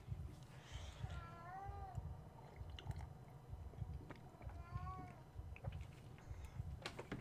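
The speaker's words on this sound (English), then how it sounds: "We have a cat being a cat." A pet cat meows twice, short rising-and-falling calls spaced a few seconds apart, fairly close, over a steady low rumbling background with faint clicks.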